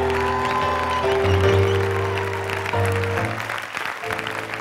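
Church congregation at a revival service clapping and shouting together, a dense steady wash of applause with sustained tones of music or voices running beneath it throughout.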